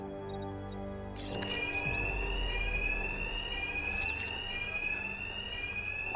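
In the Batman: Arkham Knight video game, a bank alarm rings with a sustained shrill electronic tone, loud and continuous, with brief game sound effects at the start.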